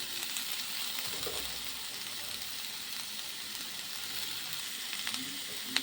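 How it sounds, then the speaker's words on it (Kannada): Tomato, capsicum and onion fry in oil for a home-style tawa pizza, a steady, moderately quiet sizzle with no talk. "ಟೊಮೊಟೊ, ಕ್ಯಾಪ್ಸಿಕಮ್, ಆನಿಯನ್ ಎಲ್ಲ ಚೆನ್ನಾಗಿ ಫ್ರೈ ಮಾಡ್ಕೊಳ್ಳೋಣ."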